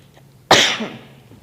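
A single sharp sneeze bursts out during a quiet county commissioners' meeting, loud and close, trailing off over about a second with faint room noise around it.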